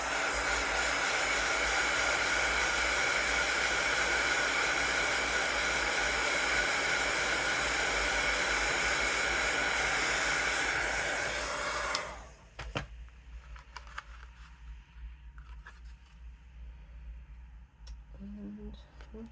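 Hand-held dryer blowing air over a card-making piece, a loud steady hiss-like whoosh lasting about twelve seconds before it switches off into near quiet with faint handling sounds.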